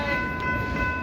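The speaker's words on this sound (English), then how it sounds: "There's the train." A theme park train at Busch Gardens Williamsburg rumbling past up close with a steady, continuous roar and a sustained whistle-like tone, with no talk.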